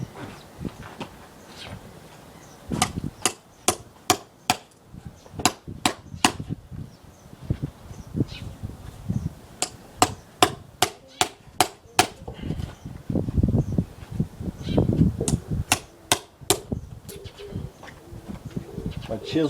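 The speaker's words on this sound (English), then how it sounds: "This thing I'm hammering is a chisel." Sharp, regular hammer strikes drive a chisel into a log, carving a tunnel for a Japanese trunk beehive. Bursts of ringing blows come in quick runs with short pauses, close and loud, with speech and faint buzzing between them.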